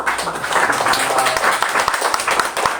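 Audience clapping to welcome a guest at a prayer seminar, a moderately loud patter of many hands mixed with murmured voices.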